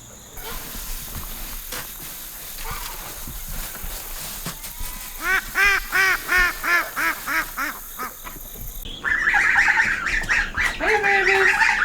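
Guinea fowl give a run of loud, rhythmic, repeated harsh calls close by, then break into a higher, busier chorus of squawking cries, with a little talk in the background early on.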